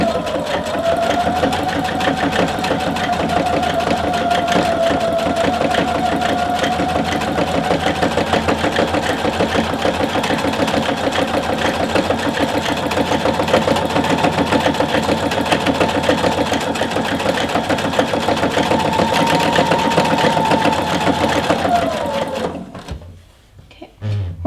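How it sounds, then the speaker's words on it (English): A sewing machine with a twin needle stitches a hem in knit fabric, running as a steady close mechanical whir for over twenty seconds, then stopping abruptly near the end. "lower your presser foot and start stitching"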